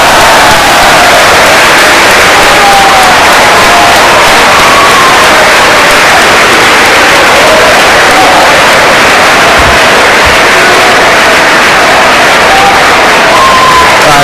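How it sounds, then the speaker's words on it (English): A crowd at a senior speech applauds and cheers for a student, a loud, steady wash of clapping and shouts that fills the whole span without letup. "Let's just give him a round of applause."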